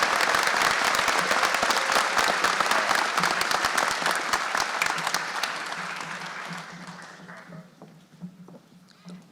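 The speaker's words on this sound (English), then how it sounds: "We want everybody to give him a round of applause" Audience applause at the 2022 BSO award ceremony, loud dense clapping that gradually thins and fades to scattered claps and a low murmur toward the end.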